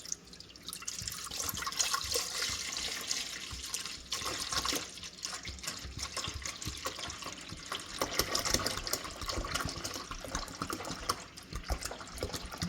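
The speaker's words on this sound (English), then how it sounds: "You're going to want to take your whole gallon of milk or half gallon, how much you're doing, and you're going to pour it in, all of it." A whole gallon of milk pours steadily into a pot for yogurt making, giving a continuous splashing, gurgling stream that runs close and fairly loud throughout.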